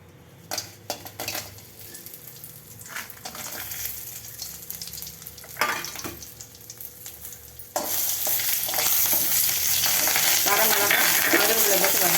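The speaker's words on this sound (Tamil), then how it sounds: "வரமிளகாய், கருவேப்பிலை போட்டு வறுத்துக்கணும்." Dried red chillies and curry leaves frying in about two ladles of oil, first quieter scattered clinks and stirring, then a sudden loud, steady sizzle that continues to the end, close up without talk.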